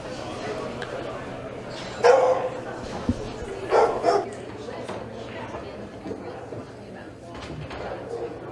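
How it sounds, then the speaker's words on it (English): A dog barks somewhere in the background during an evening session of the Colorado Open pool tournament, with a couple of short bursts of barking over a steady murmur of room noise. "We had a little bit of a dog barking in the background."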